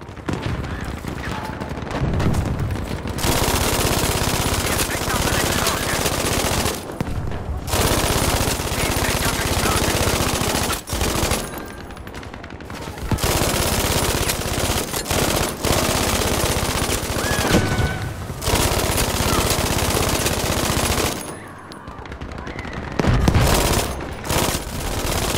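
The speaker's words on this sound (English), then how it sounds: "In Battlefield 5, suppressing fire." Sustained bursts of machine gun suppressing fire in Battlefield 5, long loud dense volleys separated by brief pauses, with heavy booms near the end.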